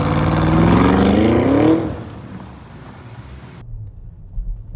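A 2025 Audi SQ7 Black Edition Quattro, a seven-seat luxury SUV, revs loudly with a rising engine note, then drops to a quieter steady road hum before the sound cuts down further.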